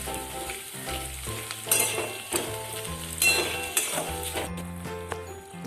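Samosa potato filling with peanuts is stirred steadily in a hot pan, its sizzle running throughout as a spoon scrapes and clinks against the metal in an irregular rhythm. Background music plays underneath, and there is no speech.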